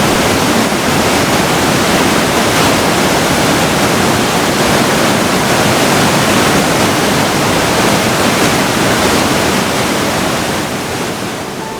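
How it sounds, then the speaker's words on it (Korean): A Himalayan river at Sonamarg swollen with snowmelt and rainwater rushes loudly and steadily, a dense unbroken roar like a waterfall that holds for the whole span and eases slightly at the end. "설산의 눈녹물과 아침내 내린 빗물이 불어 마치 쏟아지는 폭포 소리처럼 힘차게 강물이 흘러내렸어요"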